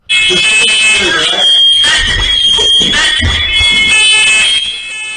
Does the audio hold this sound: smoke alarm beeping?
yes